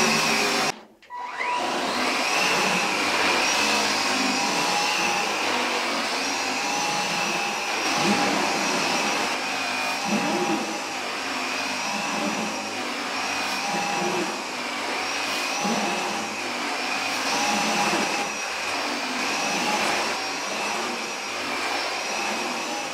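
A Gtech Air Ram cordless vacuum cleaner runs continuously on doormats, a loud, steady motor whine close by with slight surging as it is pushed back and forth.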